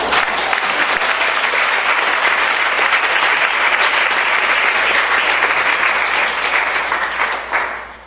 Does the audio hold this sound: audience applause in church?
yes